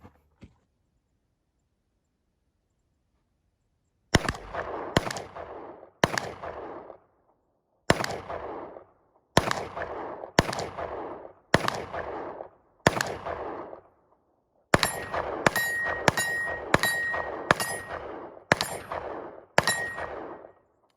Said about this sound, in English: Let's shoot some stuff. Let's sight this Holosun in real quick